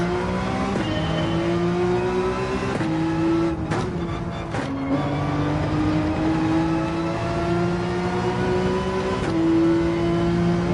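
A Porsche 911's engine in Gran Turismo 7 holds a steady, loud drone with rising and falling revs, briefly dipping and shifting pitch around gear changes, with no talking.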